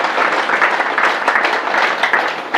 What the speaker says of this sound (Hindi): देखो उसके लिए एक ताली हो जाएगा